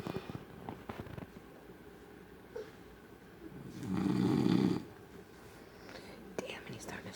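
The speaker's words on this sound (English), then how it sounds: "he's starting to snore good" A man snores loudly, with one long, heavy rasping snore swelling in the middle over a background of faint whispering and low voices, while softer breathing sounds come before and after it.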